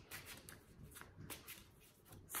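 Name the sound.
shuffling a deck of tarot cards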